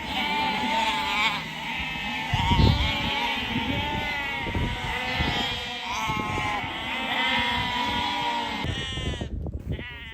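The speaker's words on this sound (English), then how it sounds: "So many lambs!" Many lambs bleating together on a farm, a dense overlapping chorus of wavering calls that continues close and loud throughout, with brief thumps and a sudden break near the end.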